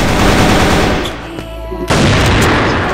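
Rapid automatic gunfire in the CrossFire first-person shooter game, loud close bursts that pause briefly mid-clip before firing resumes, with a faint game voice line in the gap.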